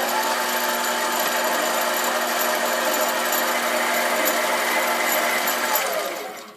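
A SIEG 7x14 mini lathe takes a light finishing cut, giving a steady, loud, continuous machine whir with a faint whine. It runs unbroken and close, then winds down at the end.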